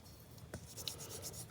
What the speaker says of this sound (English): burnish it down so that there's really good contact.